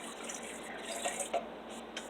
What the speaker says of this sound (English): Have my cashews in my bullet. I'm going to add some water.